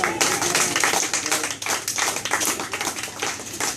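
An audience applauds after a card magic act, a dense burst of many hands clapping fairly close, steady throughout the few seconds.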